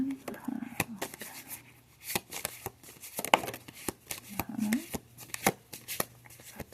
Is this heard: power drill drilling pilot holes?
no